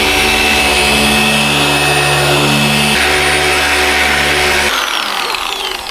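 Car paint polisher whirring steadily on its lowest setting over touched-up Honda Civic panels, a loud close motor drone with slight pitch shifts as it works across the surface, fading a little at the end.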